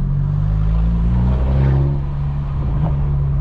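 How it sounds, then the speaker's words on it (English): A modified BMW 118i F21 engine pulls steadily under load during a drive, giving a loud, continuous low drone with a mild rise in pitch and no talking. "I'm just going to let you guys listen to the engine."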